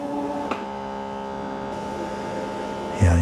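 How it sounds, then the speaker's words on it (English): A Eufy Omni S1 Pro robot vacuum's base station hums steadily as it washes and spins the mop, a constant close drone with a brief click early on and a louder thump near the end. "you'll hear this sound like a humming sound"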